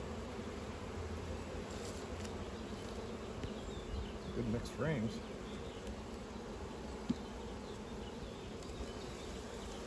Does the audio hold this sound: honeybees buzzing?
yes